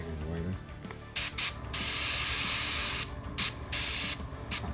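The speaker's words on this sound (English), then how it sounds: "I'm going to try a bit of the old red on the base" An airbrush sprays red paint onto a miniature's base to make lava, with several sharp bursts of hissing spray separated by short pauses. It sits close and loud, with a faint voice briefly at the start.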